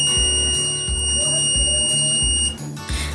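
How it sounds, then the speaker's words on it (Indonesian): A home security alarm buzzer repeats in steady pulses, loud and close, in a short regular cycle with no voices. "buzzer di rumah juga menyala selama 5 detik dengan frekuensi yang dapat didengar oleh telinga manusia"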